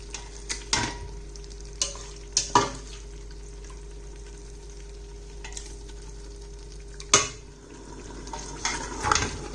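Partially cooked spinach being stirred into chicken curry in a pot, with a spoon clanking against the metal several times in separate knocks over a faint, low simmer, close and without talk.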